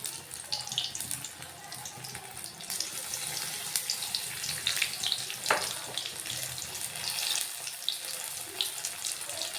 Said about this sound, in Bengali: পকোড়াগুলো অবশ্যই মিডিয়াম ফ্লেমে ভেজে নেবে